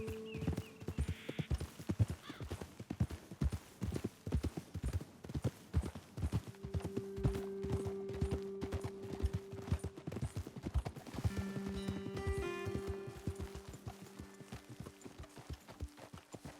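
Horses' hooves clip-clop steadily in Red Dead Redemption 2 as several horses are ridden at a walk, with dense overlapping hoofbeats, a brief whinny near the start and a low tonal music drone underneath.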